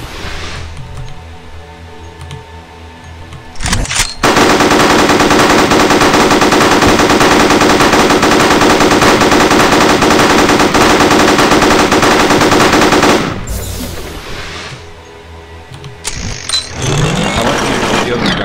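Double minigun in the sci-fi game Starforge firing one long continuous loud burst of rapid fire lasting around nine seconds, with quieter game noise before and after.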